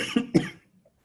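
A single person coughs twice in quick succession, close and fairly loud, followed by near silence.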